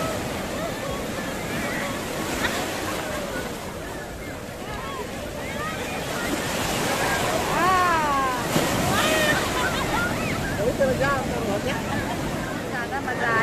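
Ocean waves break at Puri beach, a continuous surf roar with steady wind rush. People bathe in the sea nearby, and voices and shouts mix faintly into the wash.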